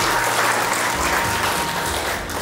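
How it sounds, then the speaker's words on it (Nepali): Loud, steady applause fills a hotel hall at a Zumba group's second anniversary event in Lakeside, welcoming the group leader, with dense clapping from a crowd continuing evenly throughout. "यसका लागि उहाँलाई अर्गानिक परिवारको तर्फबाट हार्दिक सम्मान गर्दै जोरदार तालीले स्वागत गर्न चाहन्छु।"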